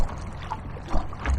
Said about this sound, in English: It's like the waves going underneath the kayak.